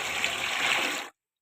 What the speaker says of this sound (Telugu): నీరు పోస్తాను.